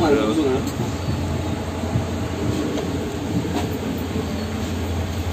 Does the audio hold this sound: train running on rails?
yes